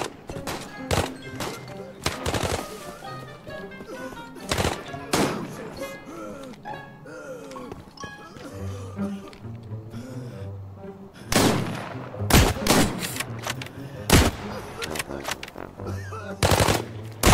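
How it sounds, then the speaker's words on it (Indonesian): Repeated bursts of gunfire from the video game Arena Breakout, loud sharp shots in quick clusters across the clip, some rapid automatic volleys, with in-game movement and ambient noise between them. "Ada tembakan di sini."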